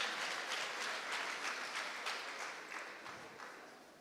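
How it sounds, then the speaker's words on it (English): Applause for debaters at a national debate championship final, a full room clapping in a steady, even roar that slowly tapers toward the end, with no voices over it. "Let's give them a round of applause."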